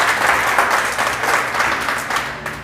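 Live studio audience gives itself a round of applause, a full, steady wash of clapping that holds at an even level, easing slightly toward the end.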